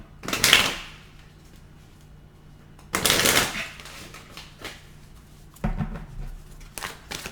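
Tarot cards shuffled in three quick riffling bursts separated by pauses, a crisp papery flutter close by, with no talk.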